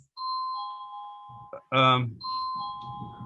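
Electronic doorbell chiming twice in a ding-dong pattern, clear and close, with a dog's bark breaking in between the two rings.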